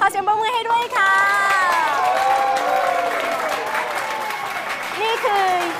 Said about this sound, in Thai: ขอเสียงปรบมือให้ด้วยค่ะ